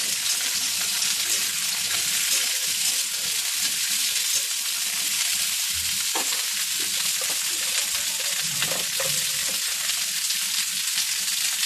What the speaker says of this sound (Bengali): এবার দেখুন এটা একটু পেঁয়াজের সঙ্গে ভালো করে ভাজা করতে